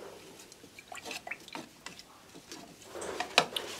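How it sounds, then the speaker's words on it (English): Conductive ink being stirred in a small container, giving soft, irregular scraping and wet clicking sounds, close and quiet, with no talking. "Give it a stir"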